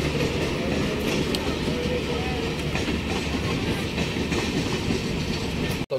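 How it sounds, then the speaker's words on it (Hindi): CSMT–Howrah weekly express train rolling on rails after leaving Igatpuri, a loud continuous interior rumble with rhythmic wheel clatter throughout, a sudden jolt near the end. "इगतपुरी से ट्रेन निकल चुकी है"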